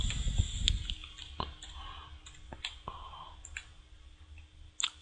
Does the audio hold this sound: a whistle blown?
no